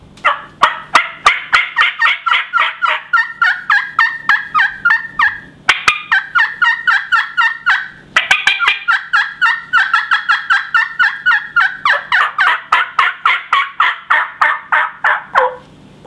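A slate turkey call imitating a hen, sounding raspier and louder, gives a long run of rhythmic yelps and clucks in quick repeated bursts with brief pauses, close and loud, with no talking.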